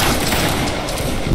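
Gunfire rattles in a video game battle, a dense, loud, continuous barrage of shots and booms with no pauses.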